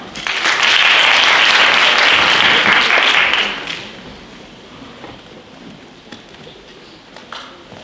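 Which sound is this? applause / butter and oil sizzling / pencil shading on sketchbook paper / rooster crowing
applause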